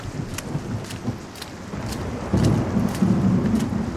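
Heavy rain with thunder in a dubbed animated film storm scene: a dense, steady downpour hiss over deep rumbling that swells louder about halfway through, with no voices.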